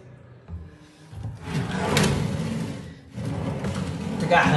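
A newly installed bathroom cabinet drawer slides along its runners, scraping and catching on dirt in the tracks, with two rough, fairly loud wooden sliding bursts separated by a brief pause.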